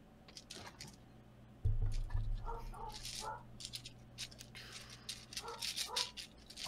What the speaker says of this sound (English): The dogs on the streets are barking.